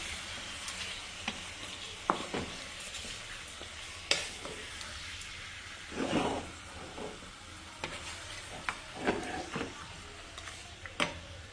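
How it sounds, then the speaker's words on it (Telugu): Chicken being stirred with rock salt in a pot over heat: steady frying sizzle under scattered spoon scrapes and clicks against the pot, with one longer stirring scrape in the middle; no talk. "సో బాగా ఒకసారి మిక్స్ చేసి మూత పెట్టేద్దాం."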